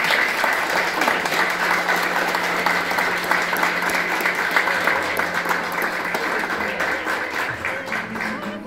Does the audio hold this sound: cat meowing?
no